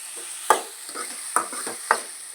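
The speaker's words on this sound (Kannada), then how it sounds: "ಟೊಮೆಟೊ ಅನ್ಕೊಂಬಿಟ್ಟ ಪೂರ್ತಿ ಮಿದುವು ಆಗೋತಕ್ಕ ಕರಿಬೇಕು ನೋಡ್ರಿ" Tomatoes fry in a pan for pav bhaji, with four or five sharp scraping stirs of a spoon cutting through a soft, steady sizzle, close and fairly loud, no voices.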